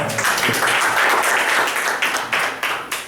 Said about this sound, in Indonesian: Jadi aplaus dulu teman-teman semua